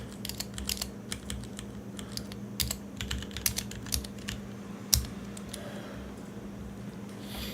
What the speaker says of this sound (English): Ignore my bad typing.